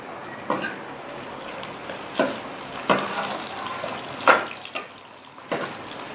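Chopped garlic frying with taro (arvi) in a pan, a steady low sizzle broken by several sharp crackles and bursts of spattering, with no talking.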